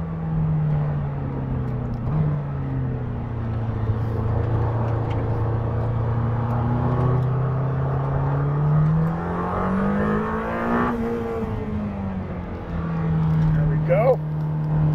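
Lamborghini Temerario engine droning steadily on track at the Estoril circuit, a continuous in-cabin hum that rises and falls through the corners while someone talks over it.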